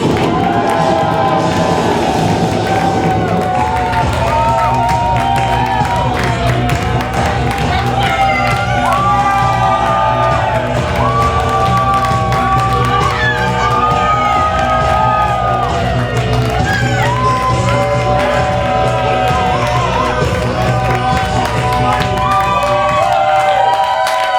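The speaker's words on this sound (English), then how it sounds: "Give a roaring cheer for Tanari!" Crowd roaring and cheering loudly for wrestler Tanari at a live wrestling show, shouts and whoops sustained throughout at full volume.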